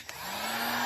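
A heat gun blows on a porcelain treat jar, a brief steady whooshing hum of airflow rising slightly in loudness.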